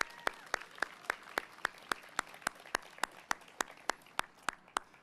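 An audience at a Troy State of the City event claps, though the sound is a slow, even series of single sharp claps, roughly three per second, rather than a full crowd ovation.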